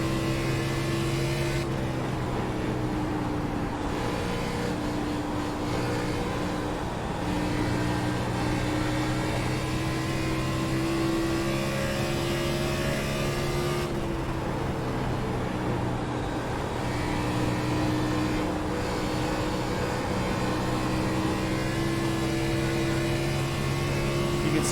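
A race car loose coming off a corner drones steadily throughout, a sustained engine tone with a couple of dips where the pitch eases and builds again, heard at moderate distance with no talking.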